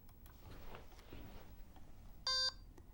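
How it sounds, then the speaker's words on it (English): A single bright electronic robot beep confirming a program download, lasting about a quarter second, rising clearly above a quiet background hum. "And that beep means everything went well."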